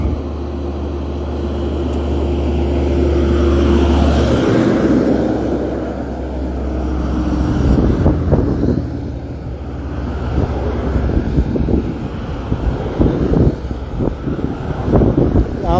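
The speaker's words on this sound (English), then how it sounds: "Traffic's getting heavier up here." Road traffic near the Mauna Loa eruption in Hawaii: vehicles rumble steadily past with heavy wind buffeting on the microphone, and the sound grows rougher and busier toward the end.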